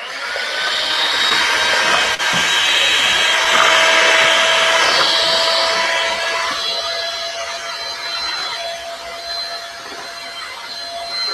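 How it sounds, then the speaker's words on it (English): An electric mixer whips fresh cream with a loud, steady motor whine and whirr that swells slightly and then eases, running alone without talk. "And then here we go with the mixer, all right? Because we need to make fresh whipped cream."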